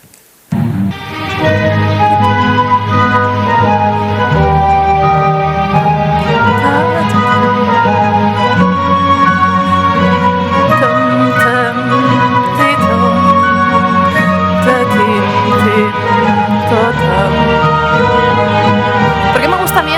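Excerpt from a recording of Beethoven's Fifth Symphony, full orchestral sound with rich sustained harmonies, loud and continuous for about twenty seconds after a brief quiet start.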